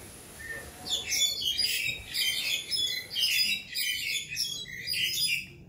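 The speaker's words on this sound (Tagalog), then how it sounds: "Because of these sounds of the birds, it catches my attention." Several birds chirp and tweet continuously in a mango tree, bright repeated calls and squawks in overlapping bursts, fairly close and steady over quiet outdoor background.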